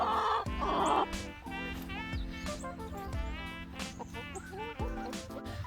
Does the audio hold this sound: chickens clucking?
yes